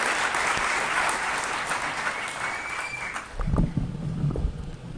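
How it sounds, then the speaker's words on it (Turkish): A gala audience applauds at a documentary premiere in Turkey, a broad, even wash of clapping that thins toward the end as a few closer, louder individual claps stand out. "bir kez daha alkışlarınızla teşekkürlerinizi sunuyoruz."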